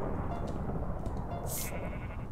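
Sheep bleating in the video game Disco Sheep, a brief bright call over a steady background of game music and noise, with no talk.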